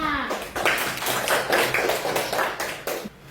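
A class of children claps for a classmate, a loud uneven burst of hand claps right up close that keeps going for about three seconds before stopping abruptly.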